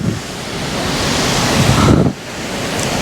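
Tegenungan waterfall in Bali roars with a loud, dense rush of falling water, broken by buffeting wind noise on the microphone, with no voices.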